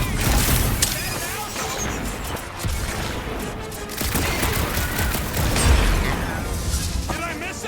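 Gunfire in Marvel's Guardians of the Galaxy, dense bursts of shots and booming impacts mixed with game effects and music, continuous and loud, with character voices talking over the action.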